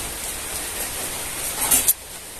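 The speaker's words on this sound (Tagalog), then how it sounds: "Problema, malakas pang ulan." Heavy rain falls steadily around a house, a dense even hiss throughout with a few brief louder splashes near the end.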